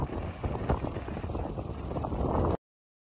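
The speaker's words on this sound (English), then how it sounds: "It is windy." Wind blows in a steady, loud rushing gust with broadband roar and low rumble, buffeting for about two and a half seconds before cutting off abruptly; no voices.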